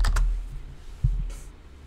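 Typing a search on a computer keyboard, a few quick clicky keystrokes followed by a firmer thump, close and clear.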